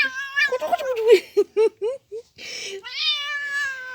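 A cat meows repeatedly in short, rising and falling calls, close by, with a few longer plaintive meows toward the end.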